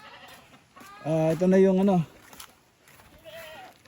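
Goats bleat loudly at feeding time on a farm with pigs and geese nearby, with one long quavering harmonic call in the middle and a fainter bleat near the end, set among people talking.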